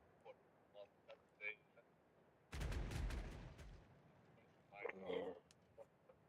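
A ship's cannon broadside in the pirate game Caribbean Legend, a heavy burst of rapid overlapping booms that rumble for about a second and a half. Faint talk comes before and after.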